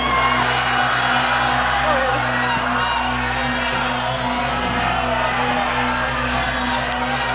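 A theatre audience at an improv festival show shouts and cheers together in a loud, sustained crowd roar, continuous throughout with no break.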